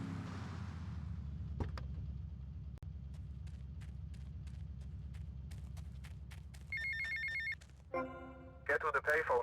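A payphone rings in Little Havana in the video game Vice City, electronic trilling bursts toward the end over a steady low game-engine drone with faint clicks.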